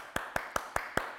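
Children clapping together at a kindergarten church service, six even, evenly spaced claps in a steady rhythm, moderately close, with no talking.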